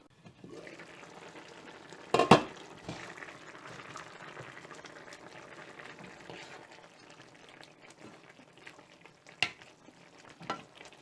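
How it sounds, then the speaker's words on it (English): Prawns sizzle in a pan of brinjal curry with a steady frying hiss, broken by a few sharp scraping knocks of a spoon stirring the pot, close and continuous without speech. "Now add the prawns, mix well and cook for about another"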